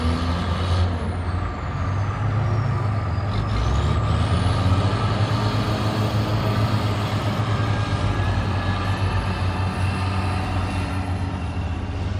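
A snow plow truck clears the Valley Mall parking lot in Hagerstown, Maryland, its heavy engine rumbling steadily and loudly throughout, with a faint high whine drifting above the continuous drone.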